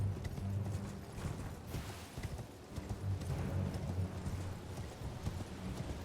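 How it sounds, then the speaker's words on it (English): A war steed gallops in the fantasy game Elden Ring, with steady rhythmic hoofbeats pounding close and loud throughout, mixed with a faint rumble of movement. "let's get onto our war steed and get going."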